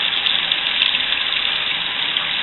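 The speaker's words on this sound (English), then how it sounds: "Rinse off, you filthy marshmallows that I had burnt" Tap water running steadily over burnt marshmallows in a sink, a continuous bright hiss of rinsing water, close and even, with no talking.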